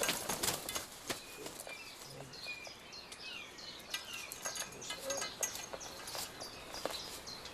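An Egyptian vulture's wings flap in repeated bursts, fairly close, with faint bird chirps and background noise between the beats.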